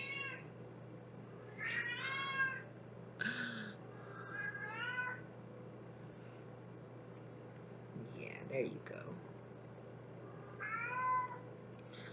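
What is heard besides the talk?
cat meowing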